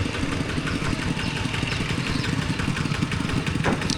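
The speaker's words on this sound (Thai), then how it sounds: "ใส่รถไถเป็นยานพาหนะในการไปมา" A walking tractor engine runs steadily, loud and close, on a morning drive between rice fields in a Phu Thai village, a continuous chugging drone with no clear talk over it.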